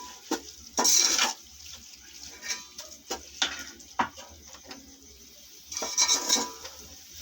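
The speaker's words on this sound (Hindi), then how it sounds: "अब हम चिकन डाल देंगे। इसको थोड़ा सा पकाएंगे।" Chicken being cooked and stirred in a pot while making macaroni, with irregular clanks and scrapes of a spoon against metal, short bursts of sizzling, and a faint low hum underneath.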